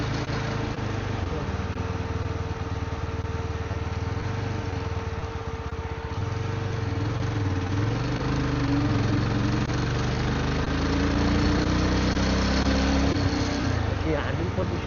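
A Yezdi Scrambler motorcycle's large engine runs steadily near the microphone, giving a constant low rumble with a slight rise in pitch partway through, while a voice talks over it.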